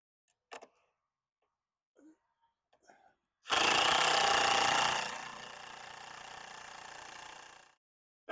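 A power driver pre-starts screws into a wooden nesting box predator guard, with a few faint taps and then a loud whirring burst that eases to a steadier lower drone for several seconds before stopping.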